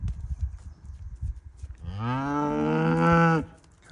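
A cow on a farm, with a calf nearby, lets out one loud, drawn-out moo that rises and holds for about a second and a half, close by, after low rumbling background noise.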